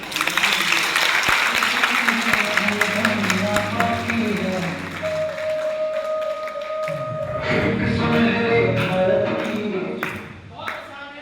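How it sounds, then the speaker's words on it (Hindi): A large audience gives loud, sustained applause at a motivational talk on financial success, steady and dense for several seconds, then tapering toward the end, with voices underneath. "एक बार अपने लिए जोरदार ताली"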